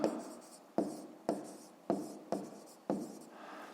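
A pen writes by hand on paper in a maths exercise, with a series of quiet, close scratchy strokes in short repeated bursts.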